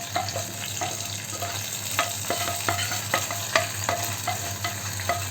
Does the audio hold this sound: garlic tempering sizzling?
yes